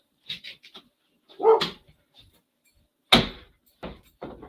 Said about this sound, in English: he's gonna come right back to the door and bark